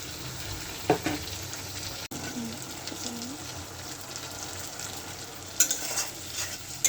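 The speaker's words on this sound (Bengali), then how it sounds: "মশলাটা একটু কষতে থাকুক।" Spice paste fries in a pan with jackfruit and potatoes, giving a continuous sizzle with scraping stirs and a few sharp clinks of the utensil. It sounds close and fairly quiet.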